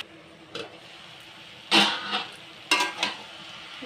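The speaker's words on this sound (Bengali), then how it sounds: "এটা ভালো করে মিশিয়ে নেব।" Cabbage with grated ginger, tomato and peas being mixed in a pan: three or four distinct scraping, clattering spatula strokes over a faint background, fairly near, with no voices.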